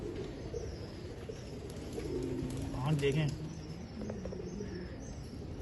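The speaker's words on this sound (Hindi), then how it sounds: "परफॉर्मेंस वाले कबूतर हैं हाजी साहब के ये सारे।" Golden cross performance pigeons on a rooftop coo in low, rolling phrases that swell loudest near the middle, while someone speaks briefly nearby.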